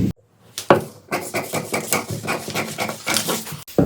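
Scissors cut a strip of blouse fabric in repeated short snips, close and steady, with no talk.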